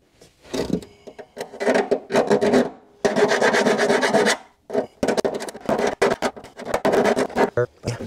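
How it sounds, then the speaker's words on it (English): A hand file rasps over a weld on a Porsche 911 Carrera body during rust repair, loud close strokes in bursts of varying length separated by short pauses. "let's get the filing. I wanna make sure that it's nice and smooth."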